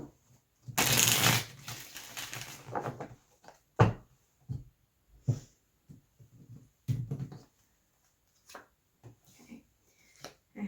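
Tarot cards shuffled and pulled from a deck, first a loud riffling burst, then a series of brief close slaps and soft flicks as single cards are laid down one by one.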